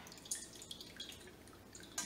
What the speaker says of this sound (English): you can also move the cheesecloth a bit to help a bit more with the drainage